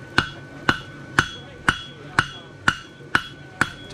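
A hammer strikes a hot steel bar on an anvil while a farrier forges a bar shoe horseshoe, eight sharp ringing blows at an even pace of about two per second, loud and close, each with a brief metallic ring.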